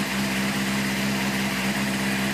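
A 2005 Honda CBR600RR motorcycle engine idling while warming up, a steady, even low hum with a constant pitch, close and loud with no talk.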